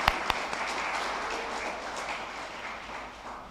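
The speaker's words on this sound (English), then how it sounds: "Let's still give them a round of applause." Audience at a city economic development presentation giving a round of applause: a few sharp near claps at first, then a steady, moderately soft wash of clapping from the room.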